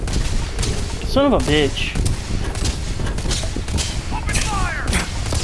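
Gunfire in the space game Starfield crackles in rapid bursts beneath loud, close game noise, with a voice cursing over it.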